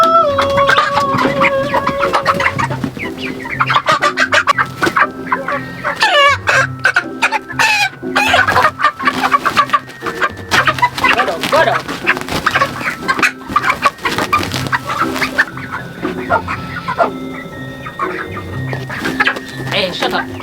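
Chickens cluck on a rural farm in Jamaica, a busy, continuous flock chatter with overlapping calls, mixed with a person's voice calling to the birds and some background noise.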